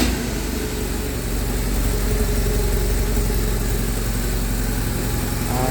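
A 2009 BMW R1200R motorcycle engine runs at a steady idle after a fuel pump replacement, a loud, close, even throbbing rumble lasting several seconds with no talk.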